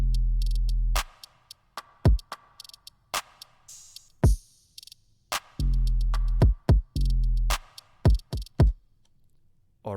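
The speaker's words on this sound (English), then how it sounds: "a shaker that I reversed at certain points, and a hi-hat with an automation clip" A trap beat plays with booming 808 bass hits, sharp percussive ticks from a hi-hat panned between left and right, and reversed shaker swells, all spaced in an irregular, sparse rhythm with crisp transients.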